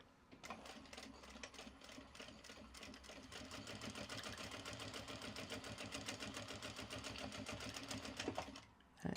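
Sewing machine stitching a waxed canvas bag with Japanese fabric in a hammerstitch design: rapid, steady mechanical stitching runs nearly the whole time, then stops just before the end.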